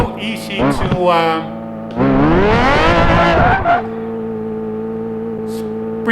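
Tires squeal and the engine revs hard as a car spins around in Project Gotham Racing 4, with a loud rising whine and skidding lasting a couple of seconds, then a steady engine tone, and a voice talking at the start.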